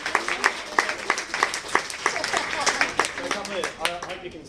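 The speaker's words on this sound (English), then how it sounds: "Round of applause for Richard." Audience applause following a careers talk at an industry event in Sydney, a dense steady clapping from a crowd that runs throughout at moderate loudness, with a few voices mixed in.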